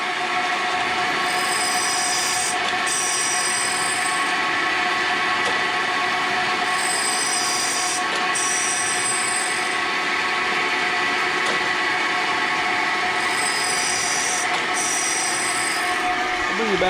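Continental metal planer running under power feed, a loud steady mechanical roar with shrill squealing tones that pulse in regular cycles, like a table stroke repeating every few seconds.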